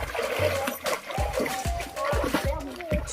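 Boys jump into a cool flowing river in Suphan Buri, sending up a run of repeated close splashes and water slaps with trickling in between. Voices talk and shout under the splashing.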